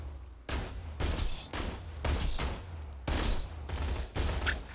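Repeated rifle fire in the video game Borderlands 2, coming in loud, dense bursts of several shots with brief gaps between them, close and steady across the clip.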